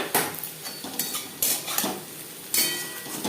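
Potatoes shallow frying in a little oil in a pan, with a utensil clinking and scraping against the metal in several sharp knocks over a steady, soft sizzle, close by with no voices.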